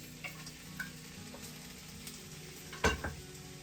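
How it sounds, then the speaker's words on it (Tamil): Butter chicken masala with tomato and cashews being sautéed in butter until golden gives a quiet sizzle, with soft ladle taps and one louder scrape near the end. "நல்லா மிக்ஸ் பண்ணி நல்லா இது பொன்னிறமா வதக்கிட்டு நல்லா வதக்கிக்கோங்க."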